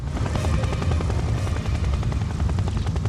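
Helicopter from the video game Fire Heroes, with a loud, steady rotor thrum and rapid chopping pulses that hold at close range and never fade.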